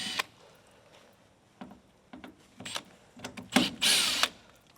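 A power drill whirs in a few short bursts with gaps between them, ending with a longer, louder run up close, while fitting a door seal kit to a Land Cruiser 70 Series Troop Carrier.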